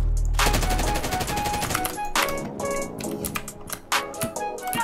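Light machine gun fire in Call of Duty Warzone, loud sustained automatic bursts with sharp rapid reports, broken by short pauses and scattered extra shots and impacts.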